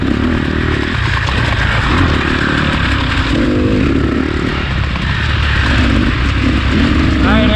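A KTM 300 two-stroke dirt bike engine runs loud and near without a break, its raspy drone rising and falling slightly as it keeps going.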